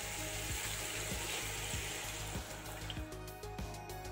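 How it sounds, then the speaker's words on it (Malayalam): Beef cooks in a pot for a Kerala-style kappa biryani as hot water is added, giving a steady sizzling, bubbling hiss with light scraping and clinks of the utensil, close and without talk. "അപ്പൊ അത്യാവശ്യം നല്ല രീതിയിൽ വെള്ളം ഒഴിച്ച് നല്ല രീതിയിൽ നമുക്ക് വേവിച്ചെടുക്കാം."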